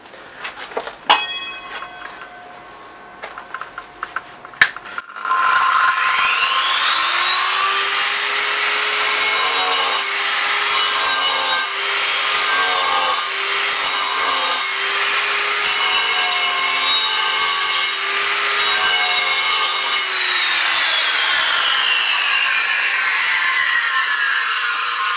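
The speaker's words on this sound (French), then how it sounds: "230 mm pour la meuleuse d'angle" A 230 mm angle grinder scoring shallow lines into a wall before mortar goes on: a few clicks and handling, then a loud, steady high-pitched whine and grinding rasp that holds for about fifteen seconds before winding down.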